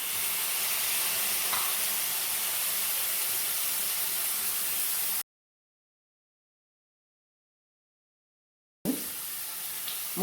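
Chopped tomato and fennel seeds sizzle steadily in a hot pan for poori masala, a soft continuous frying hiss that cuts to silence midway, then resumes briefly.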